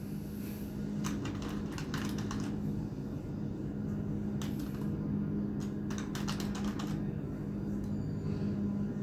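Urdu and Arabic text is typed on a computer keyboard in quick clusters of light key clicks, heard faintly over a steady low hum of background noise.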